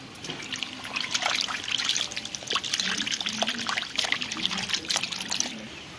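Water trickling and splashing in an irregular stream while katla fish pieces are rinsed in a kitchen, with intermittent handling noises; moderately close and fairly quiet.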